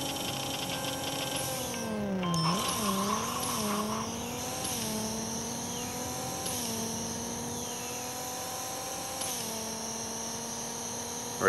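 A 2011 Subaru WRX STI races in the Racing Rivals video game, its engine whining loudly and continuously, rising and dropping with gear shifts and a brief tire squeal near the start.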